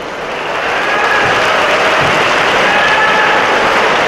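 An audience claps steadily and loudly at a "Dilli Chalo" protest address, a dense sustained applause that swells in over the first half second and then holds evenly throughout, without talk.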